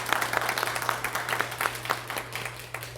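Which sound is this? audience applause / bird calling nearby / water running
audience applause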